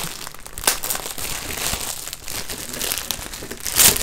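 Plastic wrapping from a Wootbox mystery box being crinkled and torn open, a close, busy rustle with sharper crackles near the start and end, with no talking over it.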